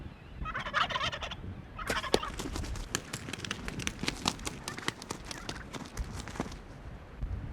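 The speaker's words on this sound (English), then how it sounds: "there's 3 big giant gobblers on my decoy" Wild turkey gobblers gobble in rapid rattling bursts at a decoy in spring, several calls overlapping, with scuffling and rustling on the ground nearby.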